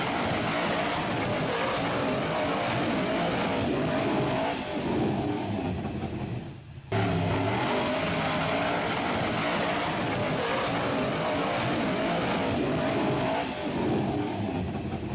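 An off-road buggy engine in a racing video game drones loudly and steadily, revving hard with a brief drop-off midway before roaring back up to full throttle.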